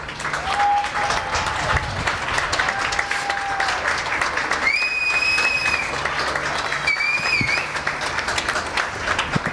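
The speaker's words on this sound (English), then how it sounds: "Nice applause there for Jake Bleacher getting back on this field for the final time." Crowd applause at a varsity soccer game, steady distant clapping and cheering across the field, with whistle-like tones and sharp calls rising above it.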